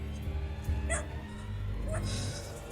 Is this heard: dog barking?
yes